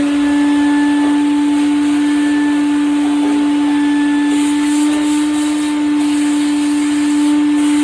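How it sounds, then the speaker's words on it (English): Vacuum cleaner sucking debris from the pickup holes of a Republic Guitars Schatten NR-2, a loud, constant close-up drone with a steady whine and faint shifts as the nozzle moves. "So I usually vacuum after both holes"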